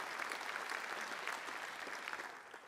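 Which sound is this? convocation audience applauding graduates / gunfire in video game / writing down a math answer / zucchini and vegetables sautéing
convocation audience applauding graduates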